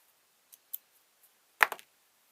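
Scissors trimming fluff off a felt napkin ring, a few faint snips followed by a sharper cluster of close cuts in near silence.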